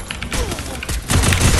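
Gunfire in a Counter-Strike ranked match, heard as a rapid burst of sharp shots with a heavier, denser volley in the second half, loud and close, with little talk.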